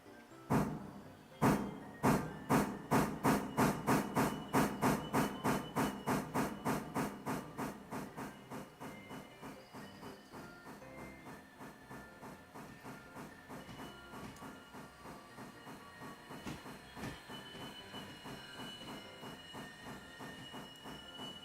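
A steam locomotive in the railroad simulation game Railroader pulls away, its exhaust chuffs loud and evenly spaced at first, then quickening and fading into a faster, softer rhythm over steady hiss and rolling rail noise.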